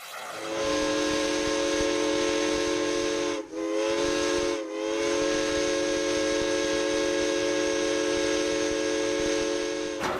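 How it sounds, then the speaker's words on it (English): The steam whistle of an Arcade and Attica Railroad steam locomotive blows a loud, sustained chord with a hissy edge, broken by two brief dips before holding steady to the end. "The sound of that steam whistle is 7 years in the making for the Arcade and Attica Railroad."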